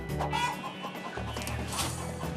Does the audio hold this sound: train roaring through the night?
no